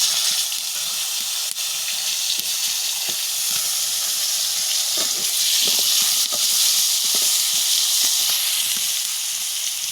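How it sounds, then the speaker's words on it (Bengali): Pointed gourd and potatoes frying in hot oil in a village kitchen give a steady, loud sizzling hiss with crackling pops throughout, close by and with no talking. "এখন আমি পটল 2 পিস আর আলুটা ভেজে নেব।"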